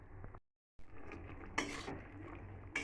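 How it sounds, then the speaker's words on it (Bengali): A lid clanks onto a cooking pot of simmering matar mushroom curry, with a few faint metallic knocks and scrapes close by, then a brief sharper clink near the end. "এবার আমি একটু চাপা দিয়ে রাখবো।"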